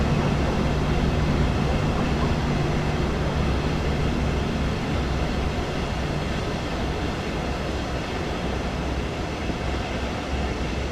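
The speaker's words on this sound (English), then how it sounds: "It's not the high-speed train it once was." A Southeastern high-speed electric train in Train Sim World 2 runs along the line, a steady broadband rumble and rail roar with a low motor drone, loud and continuous.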